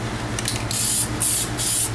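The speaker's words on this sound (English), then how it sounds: "what I'm going to do is just throw 1 or 2 coats of gloss on it just to finish up the wheels" Gloss Plasti Dip coating sprayed onto car wheels from an aerosol can, three loud hissing bursts close by, each under a second, separated by short pauses over a low steady hum.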